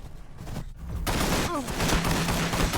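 Gunfire crackles during a battle in Warhammer 40000 Battlesector, rapid bursts swelling into a continuous fusillade after a quieter start, with a brief pitched whine mid-clip, fairly loud and unbroken.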